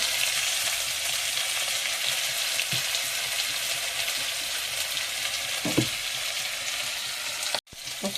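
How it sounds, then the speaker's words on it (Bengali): Prawns frying in oil in a wok, seasoned with turmeric and salt, give a steady close sizzle that holds for the whole stretch, broken by a few soft stirring knocks and a brief dip near the end. "কড়াইয়ে তেল দিয়ে চিংড়ি মাছগুলো ভেজে নেব।"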